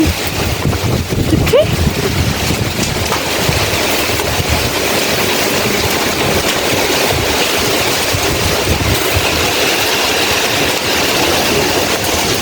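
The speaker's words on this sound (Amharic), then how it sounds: "ምንድን ነው ንፋሱ?" Strong wind buffets the microphone outdoors, a steady, loud rumbling roar that runs without a break for the whole stretch.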